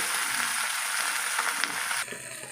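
Pomfret fish masala fries on a banana leaf over a stove, giving a dense, close, continuous sizzle that drops suddenly to a quieter hiss near the end.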